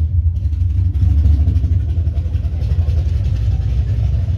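Engine noise played from a novelty 1960 Buick birthday cake: loud, steady low rumbling hum like an idling motor, continuous throughout with faint voices underneath.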